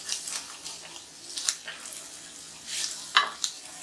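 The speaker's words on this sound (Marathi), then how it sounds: "आता हे शेंगदाणे आणि बटाटे छान असे परतून घेतले तर आपण अजून 1-2 मिनटं आपण परतूया." Peanuts and potatoes with a pinch of salt sauté in a pan for sabudana khichdi, giving bursts of crackling sizzle and repeated stirring scrapes at close range, with no talk.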